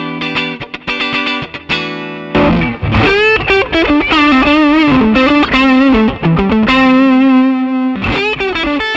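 Dry electric guitar, a 2011 Eric Johnson Stratocaster played without effects, picking a busy run of bright single notes and chords with quick rhythmic attacks, loud and close with no voices.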